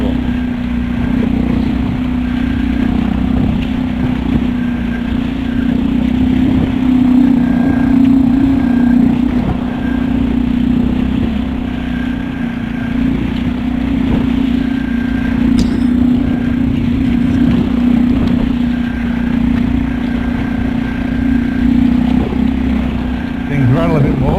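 A Suzuki 2.5hp outboard motor runs at quarter throttle on a Hobie kayak, giving a steady, close, continuous mechanical drone with a constant pitch and no talk.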